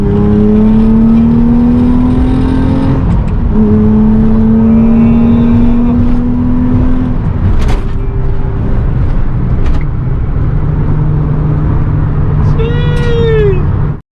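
A Nissan 350Z with a manual gearbox is driven and revved, its engine tone climbing through gears and dropping at shifts, loud and close inside the cabin, with no talk.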